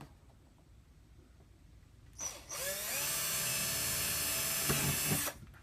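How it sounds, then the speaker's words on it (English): Quiet room tone, then a power drill whirs up to a high, steady whine for about three seconds before stopping abruptly. "now we'll take our drill"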